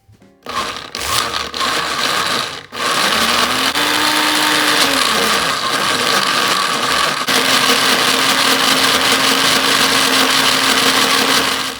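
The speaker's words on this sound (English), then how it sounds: "All the basil is now in our blender." A blender blending basil starts after a few short bursts, then runs continuously with a loud, steady whirring drone that shifts pitch briefly before settling.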